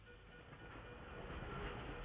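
A train in the video game Dishonored rumbles steadily with a low, broad roar, growing slightly louder over the short stretch, with no talking.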